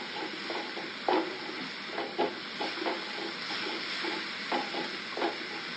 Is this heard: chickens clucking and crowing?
no